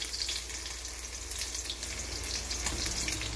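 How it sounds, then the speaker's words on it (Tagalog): Garlic sizzles in hot oil in a pan, a steady dense frying hiss that runs throughout at close range with no one speaking. "Magigisa na tayo ng bawang sibuyas"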